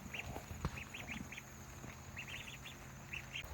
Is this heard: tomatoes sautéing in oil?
no